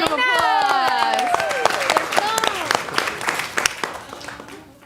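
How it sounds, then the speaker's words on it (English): An audience applauds for a contestant named Elena at a Friday night showdown event, steady clapping that fades gradually, with a host's voice and other voices talking over it. "Let's give Elena a round of applause."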